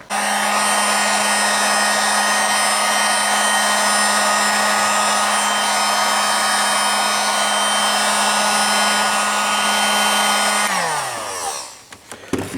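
A heat gun blowing hot air outdoors during work on an iPad dash bezel, a loud steady whirring hum with a constant tone that runs for about eleven seconds before winding down, close up and alone.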